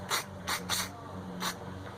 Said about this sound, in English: And then I'll just kind of spray the inside of this real good.